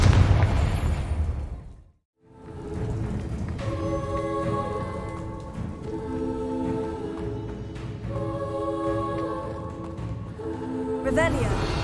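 A Confringo fire spell bursts in Hogwarts Legacy, a loud blast that opens and closes the stretch. Between the blasts comes a long crackling, rain-like rush with tonal game effects ringing over it.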